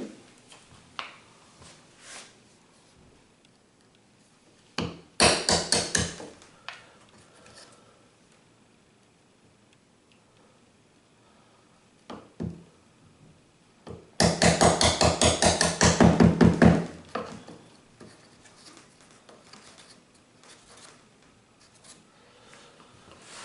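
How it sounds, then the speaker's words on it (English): A chisel works wood out of a guitar's battery box cavity in two clusters of sharp, rapid taps, each lasting a second or two, with scattered single knocks and near-silence between them. "I'm just going to use a chisel to get rid of these pieces here."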